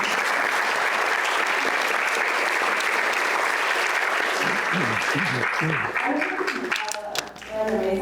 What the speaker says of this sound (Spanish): Aplausos para el profesor.